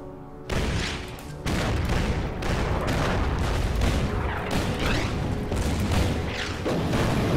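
Artillery fire from a World War II strategy game set at the Battle of Bataan, a dense barrage of booming blasts and rattling gunfire that keeps going loud and continuous for the whole stretch with no pauses.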